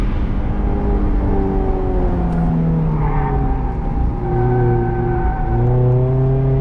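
A Mazda Miata on an autocross course, its engine droning steadily as it accelerates through rising and dropping revs, heard close and loud from inside the car.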